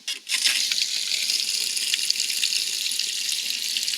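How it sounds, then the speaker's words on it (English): Steady hiss of water running from a tap in an RV during winterizing, constant and fairly close, with no voices. "it looks like clear water coming out here"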